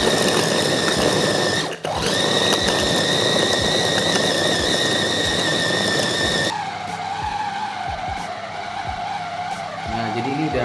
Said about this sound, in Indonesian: kita tutup dan kita chopper